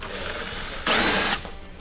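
A power tool runs in one short, loud burst of about half a second while removing bolts from a 2020 Duramax headlight, then cuts off to quiet handling noise.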